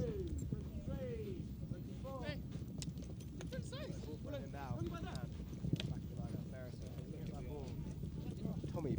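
Polo ponies galloping during a British Open match between UAE and King Power, hooves drumming in a rapid irregular patter under continuous excited commentary and crowd noise.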